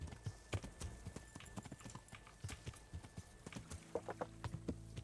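Horse hooves clip-clopping in the video game Kingdom Come, a steady rhythmic trot of close, distinct hoofbeats continuing throughout at moderate volume.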